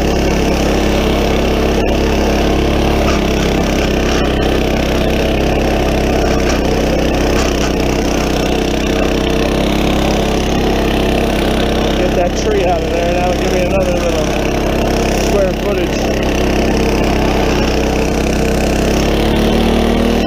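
A Troy-Bilt Horse rototiller engine runs loud and steady while tilling garden soil, a continuous droning mid-pitched roar with faint churning underneath, close and unbroken throughout, with a voice speaking occasionally beneath it.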